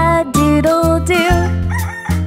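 A rooster's cock-a-doodle-doo, imitated by a singing voice over bright instrumental music in a farm-animal children's song, held as one loud, continuous melodic call.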